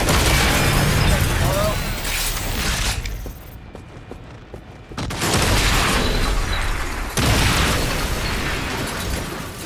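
Grenade explosions in the video game Agents of Mayhem: loud booming blasts with bursts and crackling debris, broken by a brief quieter gap, then more heavy explosions.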